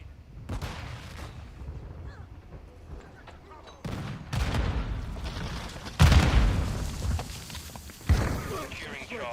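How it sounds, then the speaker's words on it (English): A flash grenade is thrown and bursts amid heavy gunfire in a Call of Duty Modern Warfare II match, with sharp loud booms and rattling shots over a steady din and a voice calling out. "Throwing flash grenade."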